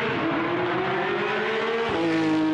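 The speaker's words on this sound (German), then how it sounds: "Wäre peinlich, wenn ich jetzt den Lambo-Sound nicht erkannt hätte." A Lamborghini engine holds a loud, steady high-pitched drone, then dips and rises again near the end as the revs shift, close and with no voices.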